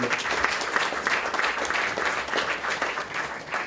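At a scouts' iftar dinner in France, an audience applauds the president of the Jewish scouts with brisk, dense clapping from a sizeable crowd that holds steady throughout.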